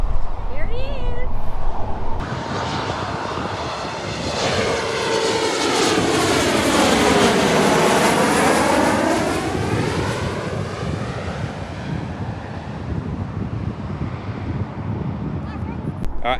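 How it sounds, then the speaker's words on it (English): A fixed-wing propeller airplane flying in to land near Darwin, its engine drone loud and close, rising and sweeping past overhead before fading, with people talking over it. "I can hear a plane."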